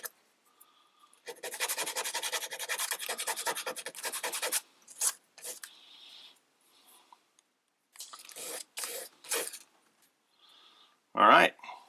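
A metal pin has a taper filed onto its ends by hand, making a steady rasping scrape for about three seconds, followed by a few shorter separate strokes and handling noises, close up with no talk.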